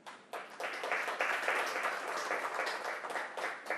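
Hands clapped by a lecture audience answering a show-of-hands question: a steady, fairly dense patter of claps rising quickly and tapering toward the end, heard alone without speech.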